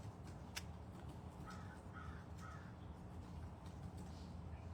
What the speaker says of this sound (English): Now we can see the sound of the bird.